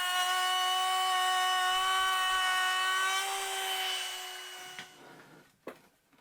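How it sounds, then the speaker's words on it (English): A router bit cuts a roundover along a wooden miter joint, a loud, high steady whine with bright harmonic tones for several seconds, then the motor winds down and a few knocks follow. "the ultimate test is when I run a router bit across it, do that round over"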